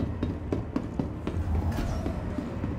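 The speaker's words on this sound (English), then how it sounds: "What's this? That's a train." Train in the space game Star Citizen, a steady rumble with regular rhythmic clicks of wheels over rail joints, fairly close and heard without talk.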